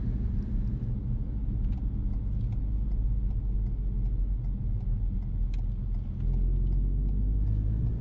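A car engine rumbles steadily as the vehicle drives, low and fairly loud, with faint ticking noises over the drone.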